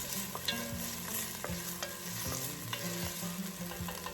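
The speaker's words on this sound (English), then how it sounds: "I'm gonna go ahead and saute them." Chopped yellow onions sauté in a pan with a constant quiet sizzle, while a utensil stirs and scrapes repeatedly in a busy, uneven rhythm.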